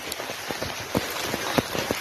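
Rain patters steadily on a surface, with scattered distinct drops tapping through the hiss.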